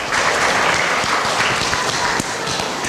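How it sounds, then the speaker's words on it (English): An audience applauds Lisa and Scott as they are invited up, a loud, dense, steady wash of clapping that holds evenly from start to finish with no voices over it. "if you guys will clap for them"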